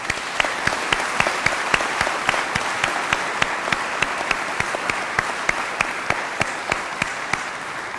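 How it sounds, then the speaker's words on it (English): An audience at a military change of command ceremony applauds the Murphy family, a steady, sustained round of clapping with a few sharper individual claps standing out, no voices. "please join me in a round of applause for the Murphy family"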